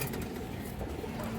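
A large, high-quality male pigeon coos softly at a bird seller's stall, a low murmuring call set against a steady noisy background.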